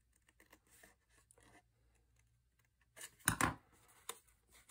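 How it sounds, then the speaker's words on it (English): Scissors trim a paper craft tag neatly, with a few faint snips followed by a louder, close cutting burst midway and a couple of light snips after. "I want to trim this out a little bit neater"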